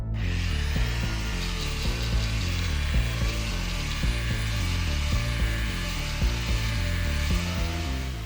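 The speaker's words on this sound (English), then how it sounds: "I did nothing but sand wood for nearly the entire day." Glued pine boards for a cutting board are sanded with a steady, droning abrasive rasp that holds level throughout, with a faint rhythmic pulsing underneath.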